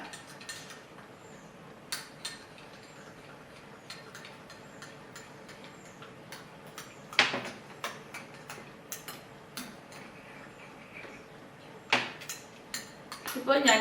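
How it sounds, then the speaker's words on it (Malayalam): A spoon mixes moringa leaf powder into a bowl of curd, sparse soft clicks and taps against the bowl with a few sharper knocks near the end, quiet and close. "ഈ തൈരിലേക്ക് തന്നെ ഇട്ട് കൊടുത്തതിന് ശേഷം ഒന്ന് നന്നായിട്ടൊന്ന് മിക്സ് ചെയ്യാം"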